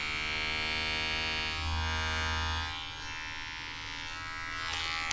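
A modified Dunlop electric hair trimmer runs with a steady buzzing hum, close and fairly quiet, alone with no talking, its tone shifting slightly partway through.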